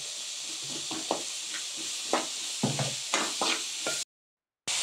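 Chopped onions sizzle in a pan for a bitter gourd masala curry, with a soft steady hiss broken by several scraping stirs of a spoon against the pan, close up, before a sudden cut to silence near the end.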